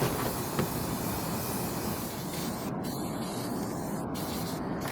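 Aerosol spray of filler primer onto a guitar body outdoors in cold weather, a continuous broad hiss with low rumble underneath, briefly interrupted by a few short pauses.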